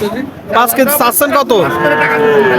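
At the Chaugachha cattle market in Jessore, a clean dairy cow standing with her calf lets out a drawn-out, nearby moo amid the voices of people talking around her.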